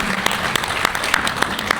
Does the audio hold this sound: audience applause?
yes